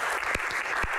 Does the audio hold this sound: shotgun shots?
no